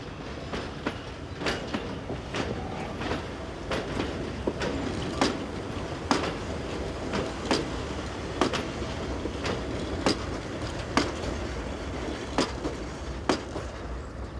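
A permanently coupled pair of 3,000-horsepower locomotives running on a mountain route, heard as a steady rolling rumble with regular clickety-clack wheel beats over rail joints, moderately distant and unaccompanied by speech.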